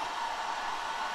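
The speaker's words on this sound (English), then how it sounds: "let's turn this hairdryer on." Hair dryer running steadily with a constant, even whooshing blow of air at a low, continuous level, no other sounds.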